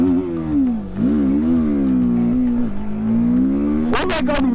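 A TVS Apache RTR310 motorcycle in supermoto mode revs and accelerates hard up close, its engine note rising and falling in pitch with each throttle surge, followed by a few sharp bursts at the end.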